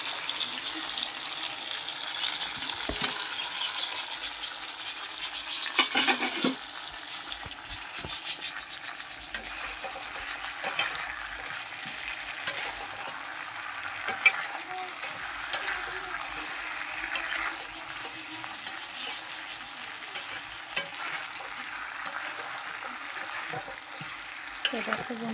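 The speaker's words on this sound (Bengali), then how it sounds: "তো দেখো বন্ধুরা আমি একটুখানি সামান্য কষে নিচ্ছি।" Chicken and potato pieces sautéing with spices in a pan for a home-style Bengali chicken curry, giving a steady broad sizzle with intermittent scraping stirs and a few louder clatters, continuous throughout with no talk.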